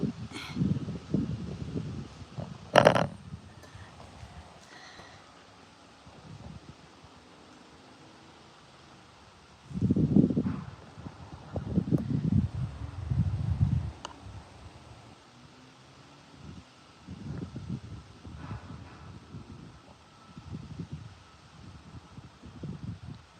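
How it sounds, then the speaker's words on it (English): Wind gusting at the entrance of a hangar, blustery buffeting that rises in low rumbling bursts, strongest around the middle, with faint thuds and a brief knock early on. "If I go inside more, we will have less wind."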